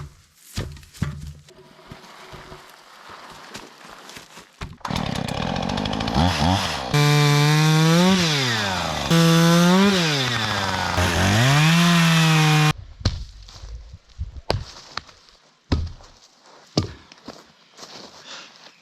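A chainsaw cuts a piece of timber into firewood at an outback campsite, the engine revving high and steady through the cut between idling stretches and a few knocks and thuds.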